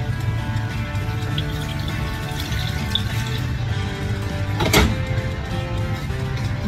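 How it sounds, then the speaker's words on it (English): Hot water poured from a tap into a pan of cooking flour and fat for poutine gravy: a steady, continuous rushing pour with a brief louder splash partway through. "So I'm gonna add some hot water."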